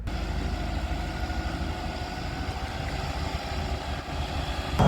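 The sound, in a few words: truck working at a reservoir excavation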